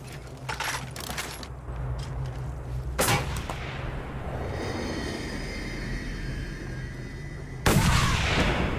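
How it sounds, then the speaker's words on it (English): Rapid gunfire crackles through the wasteland of Mad Max, sharp reports and a heavier blast punching over a steady engine-like rumble, with a second burst of shots near the end. "Okay, we're being shot at."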